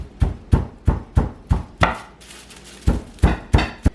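Chicken cutlets under plastic wrap being pounded flat, about a dozen sharp heavy thumps in an uneven rhythm, close and loud with a short pause midway.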